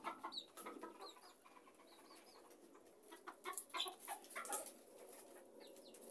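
Hens cluck softly in a backyard flock with a rooster nearby, scattered short clucks and chirps rising and falling at a modest distance over faint outdoor ambience.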